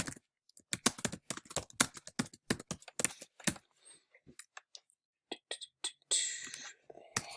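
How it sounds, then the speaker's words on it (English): Clumsy, heavy-handed typing on a computer keyboard while filling in a golf registration form, a close run of loud uneven key clicks in bursts with short pauses, ending in a brief rustle. "typing on my part"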